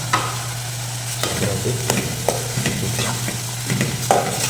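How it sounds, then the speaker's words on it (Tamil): Green chillies, slit lengthwise, fry in oil in a pan with a continuous sizzle and a low steady hum, while a spatula scrapes and taps at intervals. A voice speaks briefly. "எண்ணெயில் பச்சை மிளகா போட்டாச்சு"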